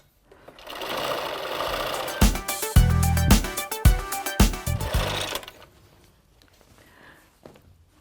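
A sewing machine stitches a quilt seam up close, with a steady whirring hum broken by a rapid run of loud rhythmic mechanical clatter before winding down to quiet, no talking.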